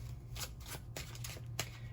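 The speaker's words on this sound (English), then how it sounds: "All right, one more shuffle." Close, quick tarot card shuffling: several soft papery riffles in a row over a faint steady hum, no talking.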